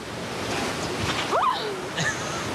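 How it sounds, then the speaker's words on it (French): Pacific Ocean waves crash against the coast in a loud, continuous roar of surf with wind, heard close up from the shore, with a few faint voices or squeals over it. "on a descendu pour voir de près là, les vagues qui frappaient sur la côte."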